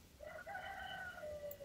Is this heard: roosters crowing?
yes